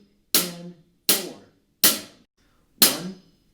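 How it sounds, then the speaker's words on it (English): A drummer plays steady eighth notes on a hi-hat for a basic rock beat, four crisp, close, evenly spaced metallic ticks with short decays and no talking. "The first step into a basic rock beat is to count eighth notes on the hi-hat."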